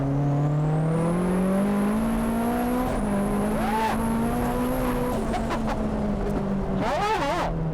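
A drift car engine revs hard and climbs in pitch as it accelerates, with tire squeal rising near the end, loud and close from the passenger seat.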